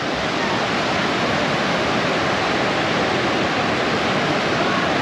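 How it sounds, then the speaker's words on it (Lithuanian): Constant rushing water of a mountain spring close by, about 4 km up near Almaty, Kazakhstan, a dense, even hiss of flowing stream filling the whole stretch with no pauses or voices. "Čia teka šaltinis."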